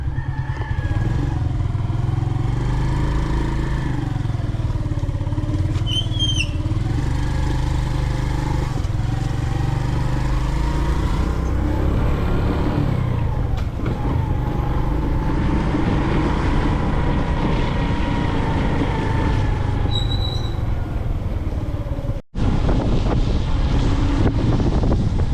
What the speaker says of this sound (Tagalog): angkas na lang kami mga kabayan dito sa isang motor.